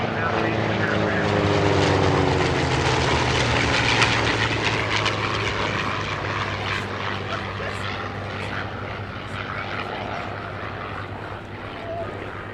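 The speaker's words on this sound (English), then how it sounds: "Listen to the sweet sounds of that Rolls-Royce Merlin V12 as he comes by in parade review." A P-51C Mustang warbird with a Rolls-Royce Merlin V12 passes in an air show parade review, its loud propeller drone swelling then fading into the distance, with an announcer talking over it.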